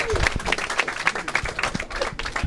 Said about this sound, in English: Give this team one more round of applause.